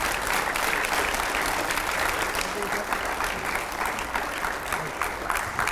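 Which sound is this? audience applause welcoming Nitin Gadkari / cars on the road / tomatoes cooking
audience applause welcoming Nitin Gadkari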